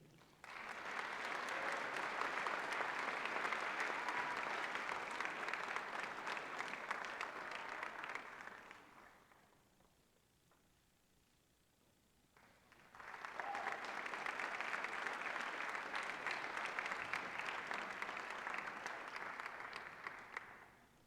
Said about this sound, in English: Can we have another round of applause for all of the graduates?